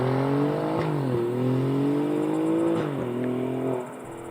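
An Alfa Romeo Giulia Quadrifoglio Swan Song accelerates through several gear changes, its engine note climbing and dropping in a rising, shifting drone heard from inside, easing off at the end.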